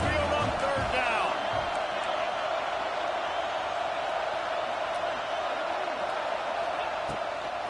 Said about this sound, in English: The Tide crowd roaring noise down on the Saban field on third down